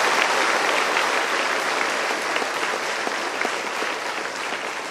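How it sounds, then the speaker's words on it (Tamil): A crowd gives sustained, even applause at a higher-education foundation gathering at VIT, a thick, continuous roar of clapping that holds at a constant level with no speech on top. "ஒரு நன்றி கைத்தட்டல் மட்டும் கொடுத்துட்டீங்கன்னா நல்லா கைத்தட்டல்"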